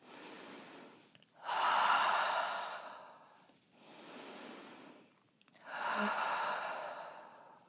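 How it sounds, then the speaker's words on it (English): Deep breaths during a yoga session: three slow, audible breaths, each a soft airy inhale and a fuller exhale, close and alone with no talking. "taking 3 big breaths"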